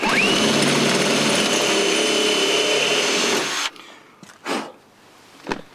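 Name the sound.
power drill drilling holes in Land Rover Defender bodywork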